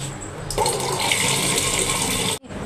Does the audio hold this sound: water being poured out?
yes